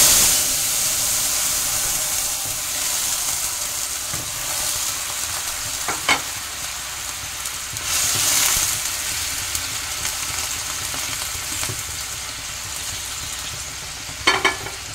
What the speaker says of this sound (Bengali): এবার আমি ফোড়ন দিয়েছি, এবার আমি তরকারিটাতে ঢেলে দেবো।